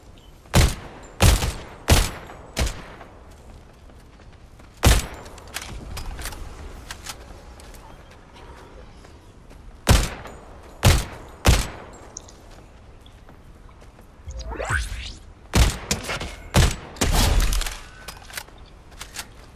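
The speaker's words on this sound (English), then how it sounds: "it was the dude shooting." Sharp, loud gunshots crack in irregular bursts in the battle royale game Fortnite, single shots and quick clusters separated by quieter gaps.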